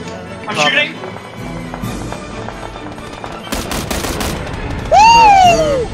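Gunfire in the battle royale game PUBG comes as a few short bursts of rapid shots beneath a player's excited talk, with other game sounds around it.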